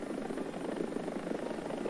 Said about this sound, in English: It's sort of a relative medium-weight scout helicopter that Sweden has strapped some tow missiles onto.